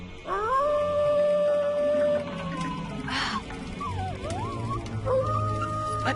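A wolf howls in a cartoon scene, long rising and sustained tonal cries followed by wavering, sliding howls, loud and close over a low background rumble.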